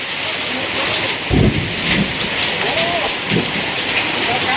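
A heavy hailstorm pounds down with ice-chunk hailstones, rain and thunder: a loud, steady roar of impacts and downpour with a few low thumps rising out of it, continuous throughout.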